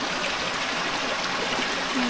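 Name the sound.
strange water flowing from a giant tree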